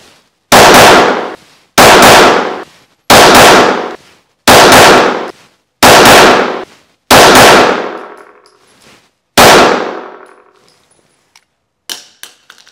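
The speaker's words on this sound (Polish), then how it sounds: "strzelam już z tym przedłużonym magazynkiem" HS H11 pistol fired with an extended magazine: seven loud, sharp shots in a steady cadence about a second apart, each ringing out with a long echoing tail, then faint clicks and handling afterward.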